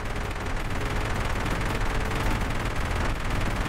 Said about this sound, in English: Who needs the flamethrower when you got a level 3 autocannon, baby?